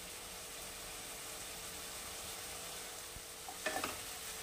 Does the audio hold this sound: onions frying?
yes